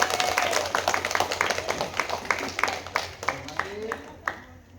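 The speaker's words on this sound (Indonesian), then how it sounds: "Oke, tepuk tangan" High school students clap along in a PE class after a cheer, sharp separate claps in a loose rhythm that thins out toward the end, with a steady low hum underneath.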